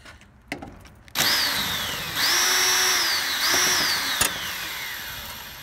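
A cordless power drill backs bolts out of the metal casing of an outdoor heat pump condenser. Three loud whirring bursts rise and fall in pitch, with a few clicks and knocks before and between them.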